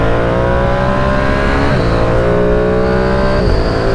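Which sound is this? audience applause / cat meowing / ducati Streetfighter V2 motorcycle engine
ducati Streetfighter V2 motorcycle engine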